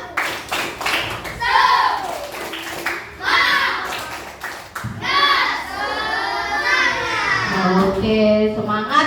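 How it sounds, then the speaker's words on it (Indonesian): A fifth-grade class performs a rhythmic spirit clap in an elementary school lesson, patterned bursts of hand claps mixed with children's chanting voices, loud and close. "Tepuk semangat."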